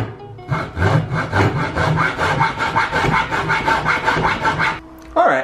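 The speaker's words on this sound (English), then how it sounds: "we're gonna test out this tiny little saw and see how well it works" A tiny hand saw cuts through a bike rack part in quick, rhythmic back-and-forth rasping strokes, close and fairly loud, ending abruptly with a brief clunk.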